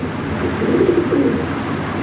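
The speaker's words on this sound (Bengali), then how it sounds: "এগুলো মানসম্মত কবুতর ভাই" Pigeons, including European toy, Lahore, Sirazi and racer breeds, coo in a low, steady murmur, several birds overlapping close by with no clear breaks.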